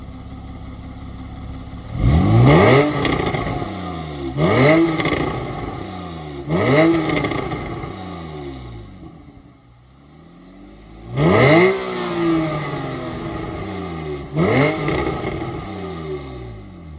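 A Porsche 911 Carrera S with its exhaust valve open revs five times in sharp, loud bursts. Each rev climbs quickly and then falls back to a quiet idle between blips.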